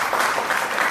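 Church congregation applauding together during a Sunday service, a dense steady wash of clapping with no gaps that lasts just under a second.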